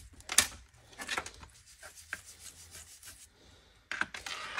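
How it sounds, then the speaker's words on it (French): Fabric and zipper of a jacket rubbing and rustling in short, close scraping bursts separated by quieter gaps, with no voices over it. "je vais enlever ma veste parce que la fermeture elle frotte, ça fait du bruit"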